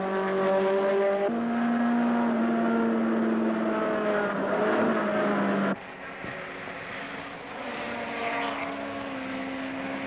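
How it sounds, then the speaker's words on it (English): Datsun 1600 510 BRE race car lapping a track, its engine note droning steadily at a distance and then dropping in pitch between shifts, heard alone with no talk. "Being able to listen to the car all the way around the track and hear John's shifts"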